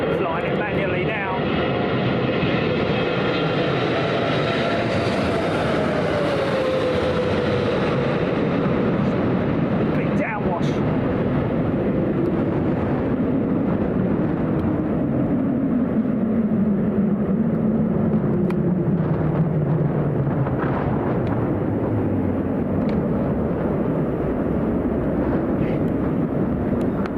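Low, rumbling roar of an aircraft wake vortex on a windy day at London Heathrow Airport, a broad swirling rush with slowly sliding tones that swells and fades over many seconds amid steady wind noise and distant jet engines.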